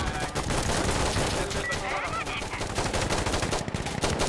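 Rapid sustained automatic gunfire in the shooter game Insurgency: Sandstorm, a dense continuous barrage of shots filling the whole stretch, loud and close.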